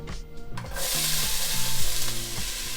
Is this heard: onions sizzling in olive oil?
yes